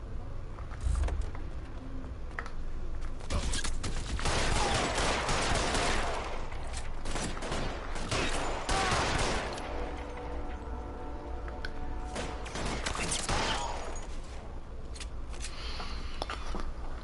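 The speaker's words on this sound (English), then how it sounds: "Open fire!" Sustained gunfire from a shootout in L.A. Noire, with dense bursts of shots and rattling volleys that run throughout, loud and close, over a busy noisy mix.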